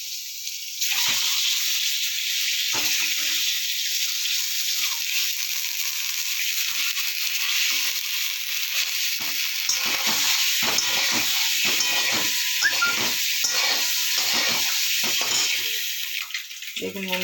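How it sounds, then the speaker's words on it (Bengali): Eggs fry with turmeric in a pan, giving a steady, bright sizzle that holds for the whole stretch, with occasional stirring scrapes and rattles close by. "ডিমটাকে ভেজে নিচ্ছি হলুদ দিয়ে।"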